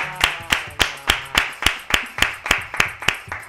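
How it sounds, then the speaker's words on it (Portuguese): Steady rhythmic hand clapping, about three claps per second, crisp and close with no talk over it, greeting a football club's signing announcement on a Brazilian sports talk show. "Uma salva de palmas!"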